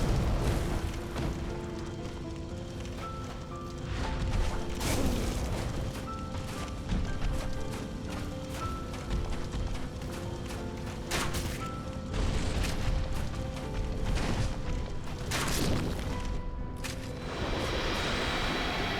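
Repeated booming explosions and crashes from a boss explosion attack in Dark Souls Remastered, final boss Gwyn, heavy low rumbles recurring over a busy, continuous soundtrack.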